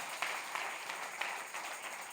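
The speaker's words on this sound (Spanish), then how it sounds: "Le da ese aplauso, Señor." A church congregation applauds during a bilingual Spanish-English Sunday sermon, a steady, distant wash of clapping with a few sharper claps standing out, fairly faint throughout.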